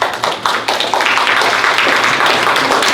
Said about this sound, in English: let's have a round of applause of John